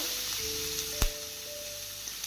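Finely chopped onion sautéing in a pan with garlic and chillies, a steady close sizzle with a sharp clatter of stirring or adding near the middle and faint humming tones underneath. No one talks.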